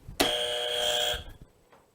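An X Factor-style buzzer sound effect blares once, a loud, harsh sustained electronic buzz lasting about a second before cutting off into faint room noise.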